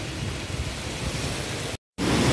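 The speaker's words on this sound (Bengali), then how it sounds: "এই দেখো বৃষ্টি দেখো, শুকনো জায়গায় বৃষ্টি পড়লে কেমন লাগে" Rain pouring steadily onto dry ground outside during a storm, a dense, loud, even wash of noise that cuts out briefly to silence and then resumes.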